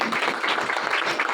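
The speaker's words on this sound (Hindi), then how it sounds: "बहनों के लिए जोरदार तालियां।" A church congregation at a Sunday service claps loudly and fast, a short burst of dense, energetic applause close by with no speech over it.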